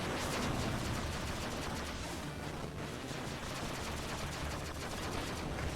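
Dense, continuous bursts of rapid weapon fire from missiles launched in a fighting video game, steady and loud throughout with no talking.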